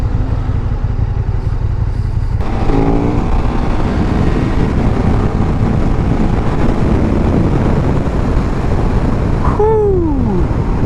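A 2017 KTM 1290 Super Duke GT motorcycle being ridden, a loud, steady engine drone under heavy wind rush, with rising revs and a gear change near the end.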